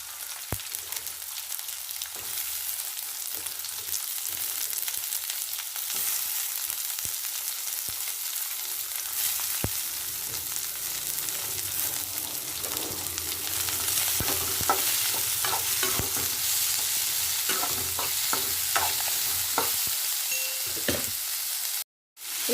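Three large chopped onions fry in a pan for shark puttu, giving a continuous close sizzle with scraping and clinking as they are stirred, ending in an abrupt cut.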